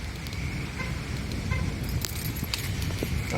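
Metallic keys jangle and clink in short bursts while a van is locked during a severe thunderstorm in Breedsville, Michigan, over a steady background of heavy rain.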